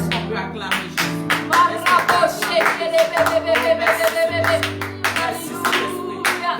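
A church congregation claps to acclaim Jesus, steady rhythmic hand claps over music and singing voices, close and lively throughout.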